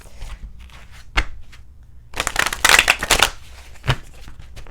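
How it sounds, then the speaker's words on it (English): A deck of tarot cards being shuffled: a brief riffle near 1.2 seconds, then a dense, crisp burst of card flutter from about 2 to 3.3 seconds and a final snap near 3.9 seconds, close and fairly loud with no talk. "I'm going to shuffle one more time"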